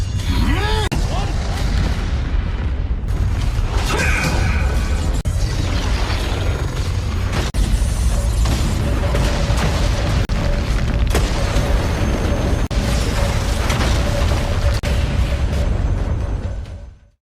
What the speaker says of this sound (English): The devastating clash creates an incredibly powerful spatial vortex, triggering a massive explosion.